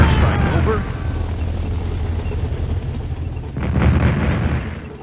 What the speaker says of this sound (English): This is Sarge. Requesting an airstrike. Over.